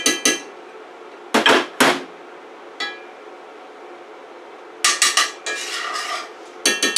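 A metal skillet is handled on the stove while heating with butter, giving a few sharp clanks and scrapes in separate bursts with quiet gaps between.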